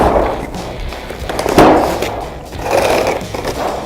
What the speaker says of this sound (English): All right, so we're going to put the boom on.